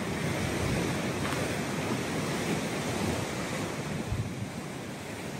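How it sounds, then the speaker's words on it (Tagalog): Strong ocean waves crashing on a gray, stormy shore, a dense continuous roar of surf mixed with heavy wind buffeting the microphone, loud and unbroken. "kung makikita ninyo ang lakas ng hampas ng alon"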